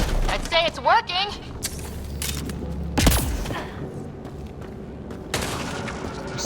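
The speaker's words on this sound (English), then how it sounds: "Take a shot at that fuel cell." A gunshot hits a damaged fuel cell in Mass Effect Andromeda, setting off a sharp, loud blast partway through, after a few earlier bursts, with a rumbling background underneath.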